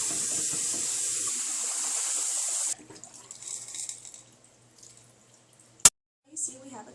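Tap water pours steadily into a betta fish bowl in a sink for a few seconds. Quieter splashing and handling follow, with one sharp click near the end and a voice speaking briefly.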